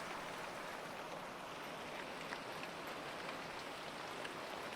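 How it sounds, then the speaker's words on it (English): Soft, even hiss of steady rain falling as calm sleep ambience, faint and continuous with no talk. "it just started to rain"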